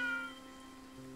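A cat in the video game Triangle Strategy lets out a single clear, tonal meow that fades out over about a second, with no talking over it.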